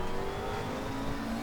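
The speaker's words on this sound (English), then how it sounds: "fling a virtual McLaren around the Nurburgring" A McLaren 12C GT3 race car in RaceRoom, driven around the Nürburgring Nordschleife, holds a steady, loud engine drone with a sustained tonal whine across a short stretch, with no talk.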